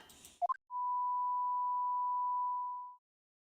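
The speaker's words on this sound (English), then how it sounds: "I love how you hear a ringing in your ear." A steady, pure ear-ringing tone effect from the Professor Layton vs Phoenix Wright video game, held for a little over two seconds at even volume, then cutting off. Brief sharp sounds come just before it.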